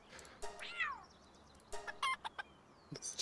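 Chicken-like creature in the video game Palworld clucking in short bursts, with sweeping chirps and scattered calls over a quiet background; a cat-like meow may also be mixed in.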